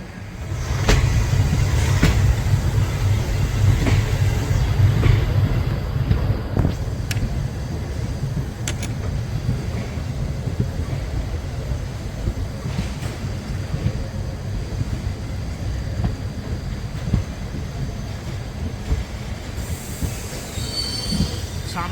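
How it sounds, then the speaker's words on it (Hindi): Kanchanjunga Express pulling out of Sealdah station, a steady loud rumble of railcars rolling along the tracks with metallic wheel squeal and clatter throughout, continuous and close with no talking. "अब आप इसका डिपार्चर देखिए।"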